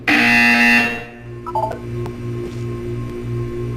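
A buzzer in the video game Portal 2 sounds as a loud, bright tonal burst lasting about a second, followed by a quieter pulsing electronic hum with faint beeps.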